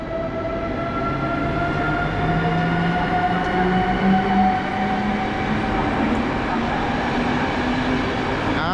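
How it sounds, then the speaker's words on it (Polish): A replacement train of passenger carriages departs, rumbling steadily along the rails, wheels grinding with a faint tonal hum rising slightly in pitch as it gathers speed, no talking. "Punktualnie jedzie wagonowy skład zastępczy"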